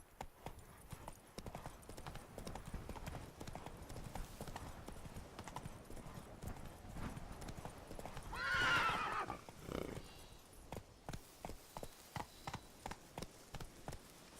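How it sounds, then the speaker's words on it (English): Roach, a horse in The Witcher 3: Blood and Wine, gallops with a steady run of rhythmic hoofbeats and gives a loud, close whinny midway, then shifts to slower, evenly spaced clip-clop steps. "run, Roach."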